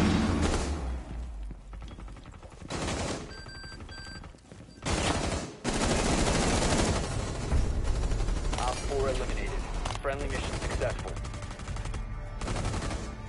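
Rapid bursts of SMG-12 submachine gun fire in Rainbow Six Siege, loud and close, with several long automatic strings broken by brief pauses and clattering game sounds, while a player's voice talks over parts of it.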